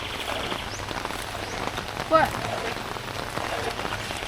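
Steady rain falls on the surfaces of Siargao during a storm, a dense, even patter with no talking, marked only by one brief higher chirp midway.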